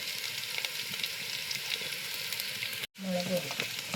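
Spice powders, including turmeric and chili powder, sizzle in hot oil for a wild mango pickle. The frying hiss is steady and close, with faint stirring, and drops out for an instant before resuming.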